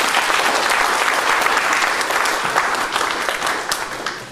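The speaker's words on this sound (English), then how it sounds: "Please give him a round of applause." A studio audience bursts into loud, sustained applause that fills the whole stretch and tapers slightly at the end.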